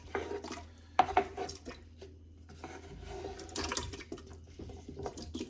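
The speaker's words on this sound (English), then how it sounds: "now we're going to add all of our potatoes in." Potatoes tumble into a pot of chicken-based loaded potato soup with soft splashes and a few clanks of a utensil against the pot, in a quiet home kitchen.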